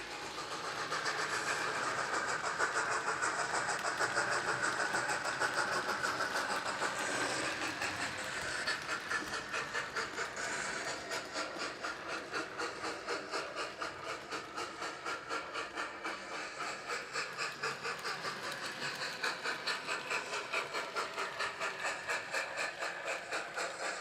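A TT:120 scale model railway Duchess locomotive hauls its train from the inner loop onto the incline, giving a steady close whirr laced with rapid, even clicking of wheels over rail joints, continuous and unaccompanied by voices.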